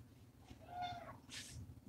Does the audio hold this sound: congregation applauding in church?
no